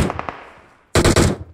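Video game gunfire: a few quick shots fade out, then a loud, close, rapid automatic burst follows after a short gap, with no talking.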